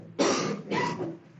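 A single person coughing in a classroom: two short, harsh bursts close together, fairly close and moderately loud, alone without talk.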